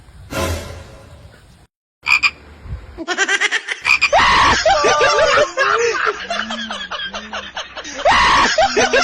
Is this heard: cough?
no